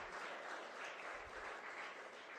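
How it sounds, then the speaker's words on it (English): An audience at a school science event at SRM Public School in Guduvanchery, Chennai, claps for students in a brief, dense burst of steady applause. "you have to give a big round of applause"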